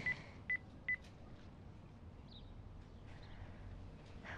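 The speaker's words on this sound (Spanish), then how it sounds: "le voy a marcar a su celular a ver por dónde está" A mobile phone is dialed: three short, evenly spaced keypad tones sound quickly at the start, clear and close against a quiet room background.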